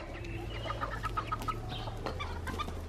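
Chickens cluck continuously at close range over a steady low hum, with several overlapping short clucks and calls running through the whole stretch and no talking.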